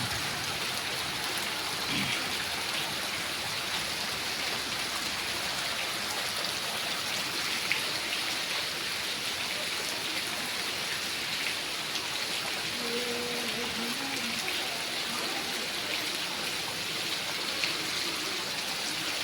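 Torrential rain falls on Ahmedabad, heard from a second floor, a constant, loud wash of drops striking surfaces with no break, and no voices over it.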